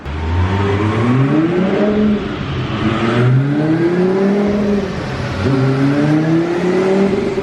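Twin-turbo Lamborghini engine revving hard on a dyno, loud and close, with repeated rising pulls that climb in pitch, drop back and surge again over a steady roar.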